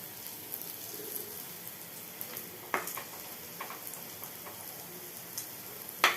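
Food fries quietly in a pan with a soft, steady sizzle. A few small pops and ticks stand out here and there, and no one speaks.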